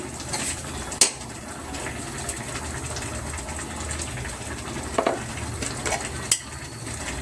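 Mustard seeds dropped into hot oil in a home kitchen give a low, steady sizzle with a few sharp pops and clinks scattered through it, fairly quiet and with no talking.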